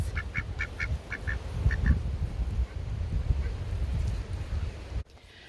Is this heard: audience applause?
no